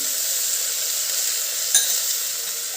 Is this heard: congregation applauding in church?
no